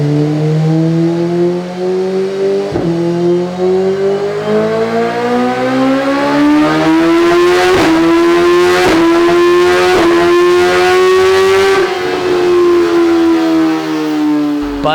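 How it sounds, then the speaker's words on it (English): A motorcycle fitted with a full Akrapovic exhaust system revs repeatedly, its loud, rising engine note swelling and dropping with several sharp throttle blips, close and steady with no talk. "this is probably my favorite part, is the Akrapovic exhaust. It sounds incredible."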